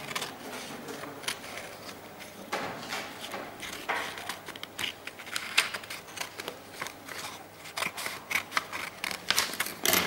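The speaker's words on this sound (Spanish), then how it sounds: "Entonces recortamos por aquí este plano." Scissors cut a sheet of paper, snipping along a drawn plane. The sharp snips and crisp rustles come in irregular bursts, close up, over a quiet room.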